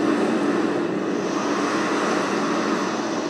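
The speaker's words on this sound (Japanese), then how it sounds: "ちょっと波の音をですね入れたいと思います。" Sea waves played as an ambient sound effect form a steady, dense wash of surf noise, even in loudness throughout with no breaks and no voices.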